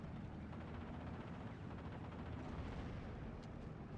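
Bombs from a P2 bomber aircraft exploding in the WWII strategy game Steel Division 2, a continuous dense roar of blasts and rumbling battle noise with no clear gaps, loud throughout.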